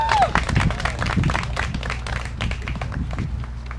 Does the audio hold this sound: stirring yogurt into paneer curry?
no